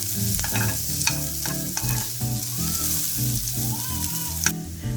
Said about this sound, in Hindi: we're going to add the grated carrots and we're going to fry them until it's soft